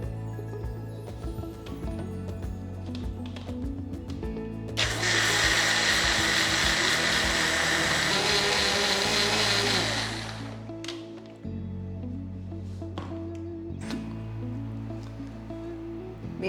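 A mixer grinder whirs loudly for about five seconds while grinding kinnathappam batter with milk, running as a steady broadband roar before cutting off, with quieter background hum on either side.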